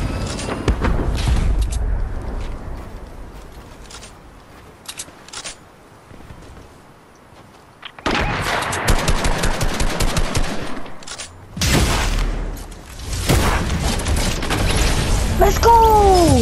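Machine gun fire in the video game Fortnite: loud, rapid bursts with a quieter stretch in between, then long sustained volleys and a heavy boom near the end.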